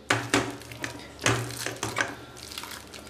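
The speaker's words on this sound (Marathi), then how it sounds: "ह्याच्याने ना ही सगळी डाळ मस्त अशी स्मॅश करायची आहे" A potato masher mashes well-cooked dal in a pot while soft puran is being made. Irregular metallic knocks and clatters come with wet squelches, close by and with no talking.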